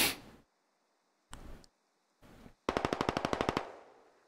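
Machine-gun fire in the game Squad comes as two short bursts after an opening blast, then a rapid run of about a dozen evenly spaced shots, sharp and fairly close.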